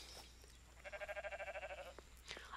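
A sheep in the video game Rising World gives one clear bleat with a rapid warbling tremor, short and fairly close against quiet game ambience.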